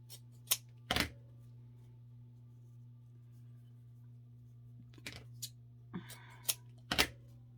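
Scissors cutting ribbon for a wreath, a few sharp snips and crisp rustles in irregular clusters over a quiet steady background hum, close by.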